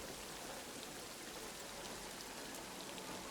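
Steady, faint rain falls in a World War I trench survival video game, a continuous even hiss of drops with no breaks or other sounds.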